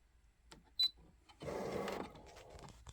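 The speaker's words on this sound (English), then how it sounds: "And I'm cutting right from the machine." A Brother ScanNCut SDX125e cutting machine runs a direct cut, giving a quiet mechanical whir and hum for about half a second after a brief click, then a softer continuing motor drone, fairly close and with no talking.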